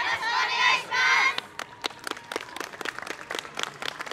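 Audience at a yosakoi dance festival in Tochigi gives a loud cheering shout, then breaks into scattered, uneven clapping that continues in sharp bursts.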